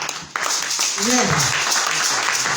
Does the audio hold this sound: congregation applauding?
yes